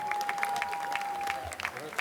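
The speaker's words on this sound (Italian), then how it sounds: "Facciamo un applauso. Il presidente!" Audience applause for the president at an outdoor band concert in Piazza Manzoni, Jesolo: a steady wash of clapping over two seconds with a sustained feedback-like tone and some voices mixed in.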